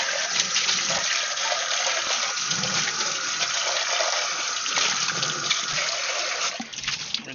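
Water runs steadily from a tap or hose during an aquarium tank water change, a continuous broadband rush that holds for several seconds before tapering off near the end.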